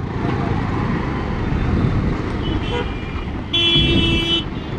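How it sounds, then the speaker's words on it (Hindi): Dense road traffic under steady engine rumble, with a long, loud car horn honk near the end and a few faint toots earlier, in a crowded street jam involving a bus. "ये ट्रैफिक हो गया भाई"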